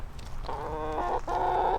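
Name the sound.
chickens clucking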